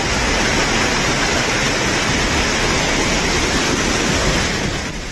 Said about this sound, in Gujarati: રેવા પથ વિસ્તારના પગથિયા પરથી વરસાદી પાણીનો ધોધ વહેતો હોય તેવા દ્રશ્યો સામે આવ્યા છે